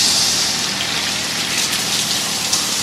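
Water rushes from a garden hose fitted with a water breaker onto established plants. The hiss and gush is steady and fairly loud, with no voices.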